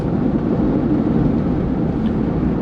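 A 2011-2014 Ford F150 EcoBoost fitted with an AFE Magnum Force Stage 2 cold air intake drones in a low, steady engine rumble with airy intake rush, continuous and fairly loud.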